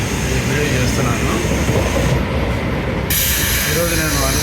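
A Vande Bharat express train runs between Secunderabad and Visakhapatnam, heard from inside as a loud, steady rumble and hiss of wheels on rails, with faint talk in the background.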